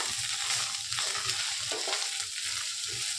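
Okra is stirred with a ground peanut masala in a pan, giving a steady, close sizzle and frying hiss under rhythmic scraping strokes, all without talk.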